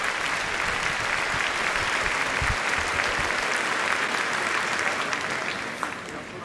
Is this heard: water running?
no